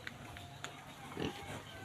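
A wild boar in Subic, Zambales gives a few low grunts and snorting oinks at close range, faint and scattered amid quiet outdoor background noise.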